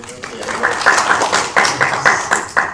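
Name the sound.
audience clapping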